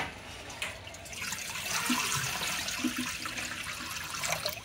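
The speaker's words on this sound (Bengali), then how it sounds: "ভাপা পিঠা তৈরির জন্য যেহেতু ভাপটা প্রয়োজন, সেই জন্য কড়াইতে আমি পানিতে দিয়ে দিচ্ছি।" Water being poured into a wok to make steam for cooking bhapa pitha, a steady splashing, gurgling pour heard up close and continuing throughout without any talk.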